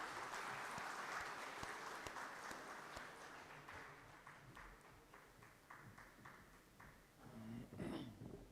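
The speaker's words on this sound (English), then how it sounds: "Audience, huge round of applause is expected." Audience applause at a DVC O&M corporate event, a dense, sustained wash of clapping from a sizable crowd that gradually thins toward the end before a brief final swell.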